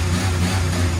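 A small multicab's engine runs just after starting in the Philippines, a low, steady idle hum with a slight rev, close and alone without talk.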